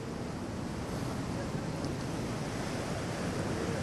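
Floodwater of the overflowing Karakoyun Creek rushes in a loud, steady, unbroken roar close by, with wind buffeting mixed into the constant wash.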